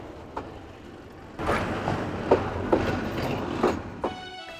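A train arriving at a station, a rumbling rolling roar that swells after a quieter start, with regular clicking wheel beats and a faint squeal near the end.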